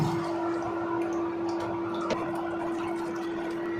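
Water is poured into a pot of potatoes and eggplant on the stove, a steady rushing pour over a constant low hum, with no talking.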